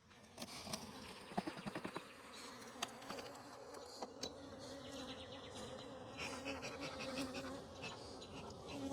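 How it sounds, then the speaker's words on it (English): Honeybee drones buzzing close around a beekeeper's head at an open hive, a steady insect drone with sharper passes as they fly near the ears. "A couple of drones buzzing my head."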